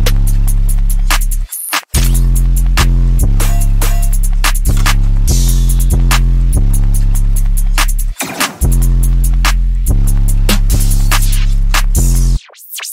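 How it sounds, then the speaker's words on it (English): A produced beat's opening section plays with drums: loud, heavy bass-driven pulses with steady rhythmic percussion hits over about 16 bars, broken by a few brief dropouts and no voices. "I'll just play that first section with the drums together."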